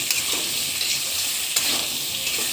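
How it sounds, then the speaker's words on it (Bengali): Ground roasted spice mix of panch phoron, chandani and black cumin frying in a pan, a steady close sizzle with soft stirring scrapes throughout. "এতে ভালো করে কষে নেব।"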